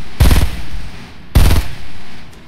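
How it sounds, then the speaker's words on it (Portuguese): Gunfire in the Fortnite video game: two loud, close bursts of rapid automatic shots, each lasting a fraction of a second, separated by about a second of quieter ambience. "ele tá atirando nele"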